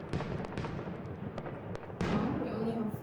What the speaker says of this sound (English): burst in an exhilarating display of fireworks